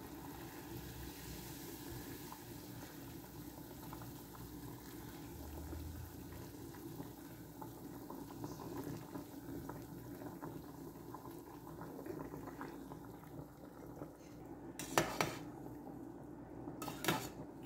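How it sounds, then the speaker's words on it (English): Low, steady bubbling and rumbling of water boiling in a pot for cooking wontons, with a few sharp clinks near the end. "the water is boiling."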